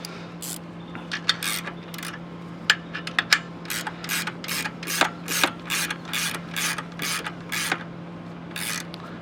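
A valve spring compressor is ratcheted tight on the engine of a 1999–2004 Ford Mustang GT during a valve stem seal job. A close series of sharp, irregular ratchet clicks plays alone, with no talking.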